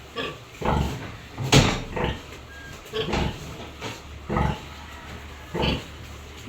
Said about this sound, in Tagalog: Yan po't nagpapadidi ng mga biik.